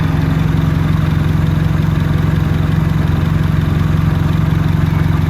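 A turbocharged D16 engine in an EJ8 Honda Civic runs at a steady idle, an even, unbroken mid-low drone with a regular pulse and no talk.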